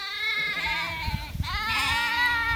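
A sheep flock bleats on a farm being set up for ram lamb banding day, overlapping wavering calls close by with a brief dip in the middle before another loud bleat takes over.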